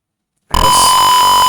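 After a short silence, a simulated Arduino buzzer in Tinkercad starts and holds a loud, steady high-pitched tone with a faint flutter.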